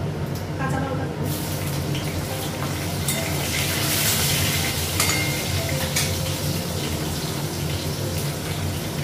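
Cinnamon, small cardamom, panch phoron and green chili fry in hot oil, making a steady, close, loud broadband sizzle that holds throughout with a few brief crackling spikes.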